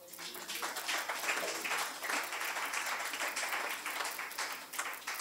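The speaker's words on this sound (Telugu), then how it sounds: "చప్పట్లు కొట్టండి" Audience at a sermon clapping together, a sustained, fairly soft wash of many hands applauding from some distance, steady for several seconds before tapering slightly.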